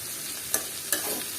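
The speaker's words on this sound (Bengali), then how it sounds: "একটু হালকা পোড়া পোড়া করবেন মানে একটু ভাজা ভাজা হবে করলাটা" Bitter gourd and potato fry in a pan with a steady, fairly quiet sizzle, punctuated by two sharp spatula scrapes as the vegetables are stirred.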